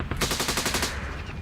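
Rapid automatic bursts crack out in a heavy firefight, a dense, loud string of close shots in quick succession that trails off into a rumbling tail.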